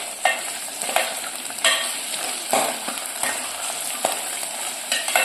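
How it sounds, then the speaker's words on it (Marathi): Chicken pulao sautéing in a one-pot cooking pot, with a steady broad sizzle and repeated clanks and scrapes of a spoon stirring roughly every second, close and fairly loud, with no talking. "आपण आता हे परतून घेऊया."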